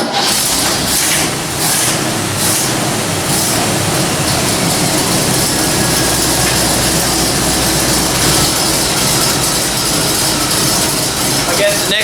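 The engine of a 1966 Chevrolet C60 dually truck, started with ether and running on a small fuel load, makes a loud, rough, continuous roar close by, with clattering noise throughout.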